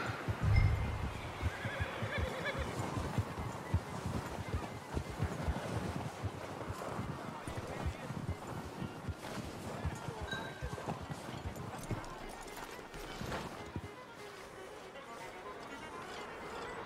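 A horse in Red Dead Redemption 2 whinnies as it is hitched up. Close, soft hoof steps and snorts run under faint wind, and a voice can be heard.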